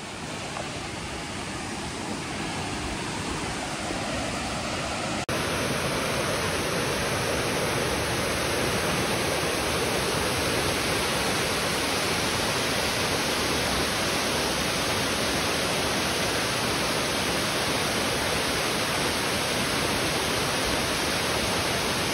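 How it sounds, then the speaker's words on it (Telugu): Water at Kuntala waterfall rushes in a continuous loud roar that grows fuller partway through as the listener moves closer to the falls. "water sound"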